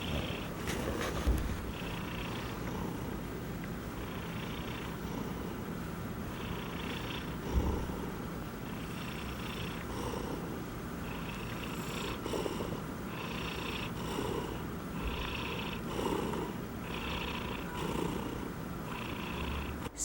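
A pet cat purrs continuously while being cuddled, a close, soft rhythmic rumble pulsing with each breath, with no talking.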